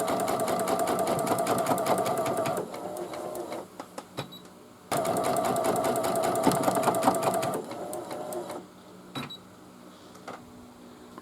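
Sewing machine stitching a placement line on a hooded towel, two loud fast runs of rapid needle chatter separated by pauses with faint clicks and handling noises, close and alone.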